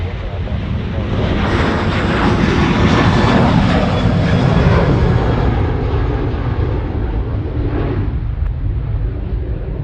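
Rex airliner in old colours landing at Sydney Airport, a loud close roar of engines swelling past with a whooshing sweep, peaking midway and easing slightly toward the end.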